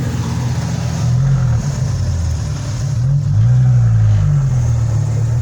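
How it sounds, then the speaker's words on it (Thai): Car engine revving hard, a loud close rumble that climbs and falls in pitch through several throttle pulls, sitting alone without voices. "รถแรงครับผมรถแรงครับ"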